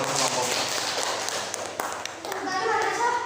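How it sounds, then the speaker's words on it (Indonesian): A class of students in a mathematics lesson applauds a group, with scattered clapping and tapping at moderate level under children's voices and talk. "Kasih tepuk tangan untuk kelompok."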